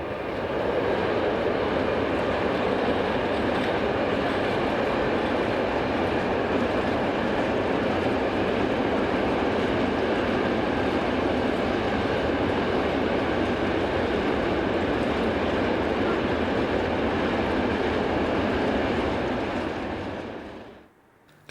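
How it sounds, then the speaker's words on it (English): A class EU64 locomotive hauls a load of freight hopper wagons off the Leipzig line in Germany, a loud, continuous rolling rumble and rail roar that holds steady before cutting off at the end. "Another Disperlock hire loco of class EU64 comes off the Leipzig line with a load of hoppers."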